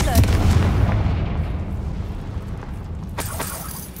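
A Confringo blasting curse cast in the Hogwarts Legacy video game goes off as one loud explosive boom that rumbles and fades, followed by a second sharper burst near the end.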